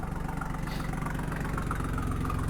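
A Mercedes W210 engine with a fault idles roughly, a low, lumpy, pulsing drone heard close and steady for a couple of seconds with no talk.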